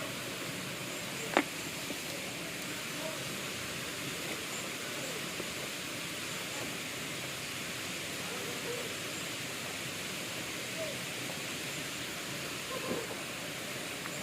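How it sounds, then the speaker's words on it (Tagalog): Igpupula Falls rushing as a constant, even roar of falling water from a short distance, with one brief faint click near the start. "Ang waterfalls, yun o."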